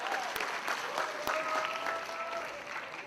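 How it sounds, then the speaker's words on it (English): A room of attendees at a talk on mass incarceration gives a speaker a round of applause, steady clapping at moderate distance with a few sharper claps standing out, no voices on top. "Let's give ADA Walsh another round of applause for his presentation."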